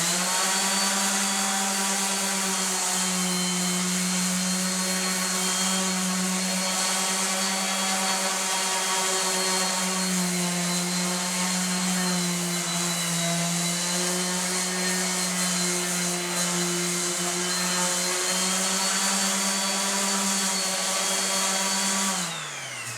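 A floor sander grinds steadily across hardwood flooring being refinished, a loud continuous motor drone with a strong low hum and bright abrasive hiss that holds unbroken for over twenty seconds, then cuts off at the end.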